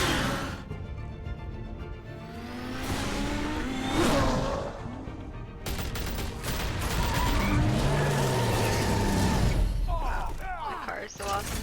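Batman's car in a Telltale Batman game roars and revs through a chaotic chase, engine surging with tire squeals and crashes, while a player talks over it throughout.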